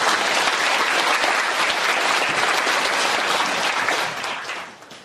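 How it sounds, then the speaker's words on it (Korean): A lecture audience at a philosophy and humanities forum gives a dense, steady round of applause that holds evenly for several seconds, then fades out. "다시 한번 백성균 목욕철학 원장님께 큰 박수 부탁드립니다."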